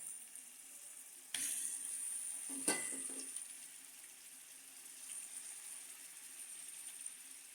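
Fish pieces frying in oil for a fish pulusu, a steady soft sizzle broken by a couple of sharp clatters as the pieces are stirred, faint and close with no talking.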